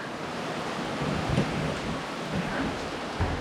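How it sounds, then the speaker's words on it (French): Heavy rain pouring outside a window during sunshine, a dense continuous hiss with occasional low thumps and gusts. "Il pleut à fond."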